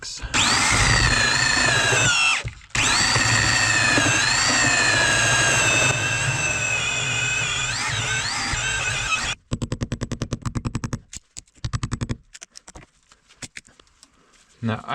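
A power drill bores a hole through an old log in a workshop, whining loudly and steadily with a brief pause and changes in pitch, then giving way to choppy bursts and stops near the end.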